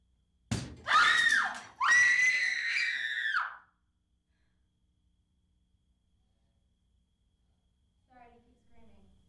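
A person screams loudly in two long, harmonic bursts near the start during a blooper take on a 2003 film set, then silence, with faint voices near the end.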